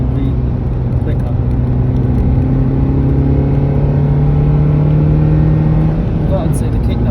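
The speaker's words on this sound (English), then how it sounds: "But I'd say the kickdown on this is pretty damn spot on." A Renault Megane engine drones steadily at close range under kickdown, a sustained loud hum with rising tonal bands inside the cabin, while a person talks over it.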